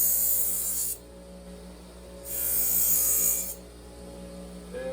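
Knife blade drawn across a compound-loaded buffing wheel on a belt grinder, two sustained bright hissing passes separated by the lower steady hum of the running machine, close and loud.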